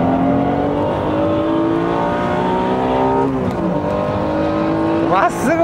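Nissan GT-R and Honda NSX race cars at speed in a circuit battle, loud sustained engine drone with a shift in pitch and a rising rev near the end, an excited commentator talking over it.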